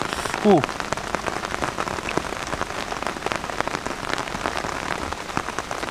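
Steady rain falls outdoors on a hilltop, a dense close patter of drops hitting surfaces throughout, broken only by a brief vocal sound near the start.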